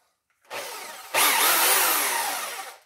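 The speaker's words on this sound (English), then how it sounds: "You put this on your drill" A power drill with a mixing attachment, mixing mashed potatoes, revs up briefly, stops, then runs again at high speed for a couple of seconds with a whirring, churning tone.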